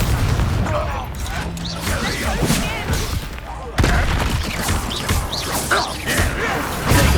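A fire-blast Confringo spell explodes during a spell battle in Hogwarts Legacy, with heavy booming impacts and crashing debris layered over dense combat effects, and voices speaking between the blasts.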